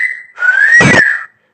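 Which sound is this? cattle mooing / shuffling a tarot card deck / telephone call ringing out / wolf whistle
wolf whistle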